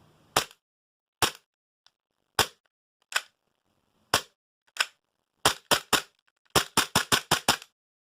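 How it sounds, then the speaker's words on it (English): Tokyo Marui FNX-45 airsoft pistol on green gas, firing sharp snappy blowback shots that start sparse and slow, then speed into a quick string of rapid cracks, close and clear in a quiet room. "So it's a pretty nice blowback on it."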